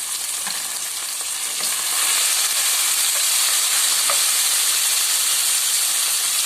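Vegetables with tomatoes sizzle and crackle steadily as they sauté in a hot pan, a dense frying hiss that grows slightly louder and continues without talk.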